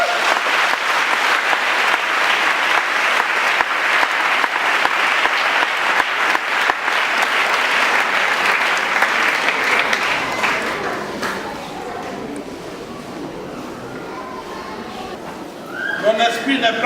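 A church congregation applauds loudly in a sustained wave of clapping for about ten seconds, then it thins and fades while voices rise toward the end.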